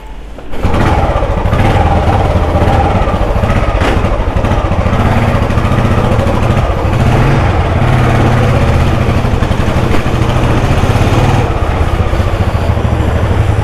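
A used vehicle's engine idles and runs steadily, a loud, close, continuous low rumble with even throb that holds for the whole stretch with no speech.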